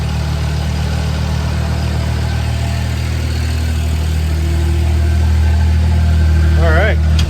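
The engine of a Skyjack SJ7127 scissor lift runs steadily through a lift cycle, a loud continuous mid-pitched drone that swells slightly near the end, with a voice speaking briefly over it.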